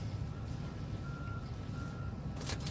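A truck backing in gives two long, faint, evenly spaced reversing beeps over a loud, steady engine and road rumble, followed by a brief hiss near the end.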